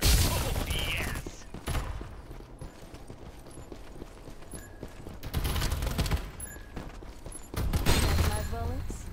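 Bursts of rapid gunfire from the shooter game Farlight 84 rattle in several clusters, mixed with game effects, while a player talks over the action.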